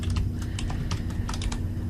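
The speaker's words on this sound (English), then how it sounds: "I'm typing these right next to end document" Rapid keystrokes on a computer keyboard clatter in an uneven stream of close, crisp taps while LaTeX bibliography commands are entered, with a steady background hum underneath.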